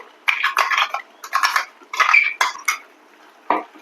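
Spoon scraping and clinking against a metal pan while cashew white gravy is stirred into masala, bursts of close, bright metallic scraping in uneven strokes with brief pauses.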